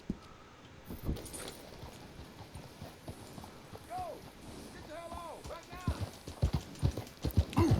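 Suffolk Punch horse hooves clip-clop in steady strikes while it pulls a wagon in Red Dead Redemption 2. Someone talks over the hoofbeats, and they grow louder and quicker toward the end.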